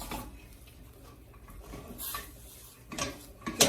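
A utensil scrapes and knocks against a pot as tullumba dough is stirred over low heat, faint scraping punctuated by a few sharper metallic clinks toward the end.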